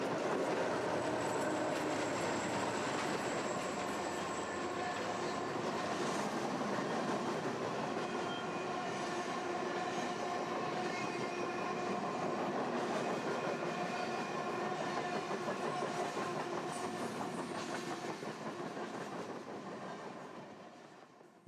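A freight train rolls steadily through a Canadian canyon, a continuous loud rumble and clatter of wagons with faint squeals, fading slightly at the end.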